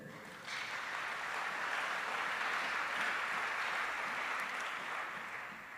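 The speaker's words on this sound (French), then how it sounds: "Nous acclamons le Seigneur." Church congregation applauding and acclaiming together in a large room, a steady, dense wash of clapping and cheering that swells after a moment and holds throughout without a break.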